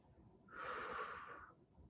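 A single strong exhale, roughly a second long and loud and breathy, during a level-one muscle-strengthening exercise session for people with diabetes, with quiet background before and after.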